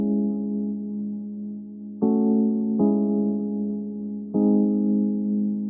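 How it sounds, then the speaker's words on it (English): Keys preset from a software plugin playing sustained chords, warm and full, each chord held for about two seconds then struck anew with a fresh attack, slight wavering shimmer in the tone, no voices. "this is the beautiful keys preset from the Worldly 5 plugin"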